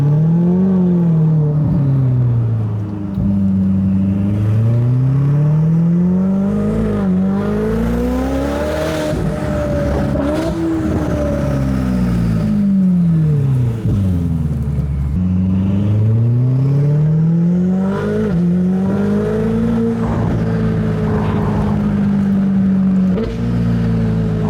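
A Ferrari F8 with an essentially straight-pipe exhaust revs hard and repeatedly, its loud, raw engine note sweeping up and down in rising and falling waves, close by and alone with no talk.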